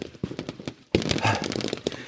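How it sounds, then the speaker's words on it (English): Rapid bursts of gunfire from thugs in a Batman video game rattle out in quick clusters, with a denser, louder barrage of shots kicking in partway through. "I'm on the ground, walking slowly into the gunfire."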